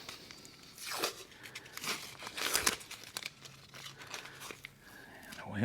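Tape crinkles and tears as it is peeled off an open-back silicone mold, with several sharp ripping bursts and faint handling noise, quiet and close.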